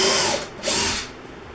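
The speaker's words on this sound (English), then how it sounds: "now I'm going to go ahead and drill the pilot hole." A power drill bores a pilot hole into a wall while a lumber wall storage rack is being installed. Loud, rough whirring comes in two close bursts, with a short dip between them.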